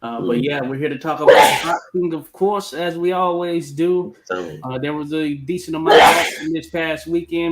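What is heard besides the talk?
sneeze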